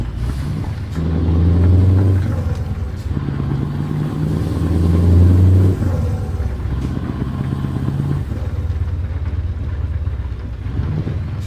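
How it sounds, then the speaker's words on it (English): A Scania truck engine drones in Euro Truck Simulator 2: a deep, steady diesel rumble that swells twice as the rig accelerates, loud and continuous, with no talking. "I love this engine."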